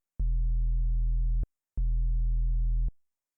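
Synthesized sub bass with a pitch envelope, two long sustained low notes of equal length separated by a short gap, each opening with a brief clicky pop at the attack, clean and alone.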